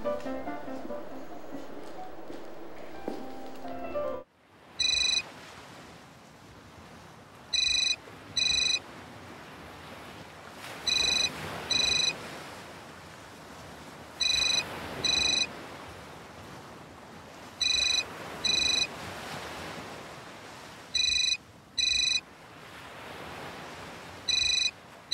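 After a brief musical cue cuts off, a phone line rings in repeated double bursts at steady intervals, clear and electronic over a faint hiss, in a dramatic short-film scene.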